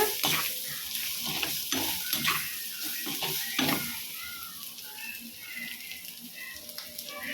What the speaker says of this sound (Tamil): சேர்த்து நல்லா பரட்டி விட்டுட்டு